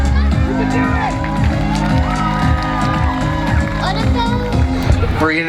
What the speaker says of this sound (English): to listen to that crowd cheer her on